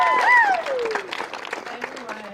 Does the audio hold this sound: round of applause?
yes